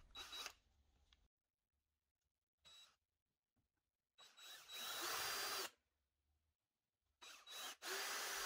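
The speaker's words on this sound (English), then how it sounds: "I marked out where the lead holes should go along the bottom of the bait before grabbing my 1/4-inch Forstner bit and boring" Short bursts of a power drill boring quarter-inch lead holes with a Forstner bit into the wooden bottom of a bluegill swimbait lure, close and loud, separated by silent pauses, with no talking.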